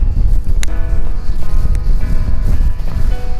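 Strong wind buffets a handheld phone microphone on an outdoor walk, a loud continuous low rumble with gusty surges.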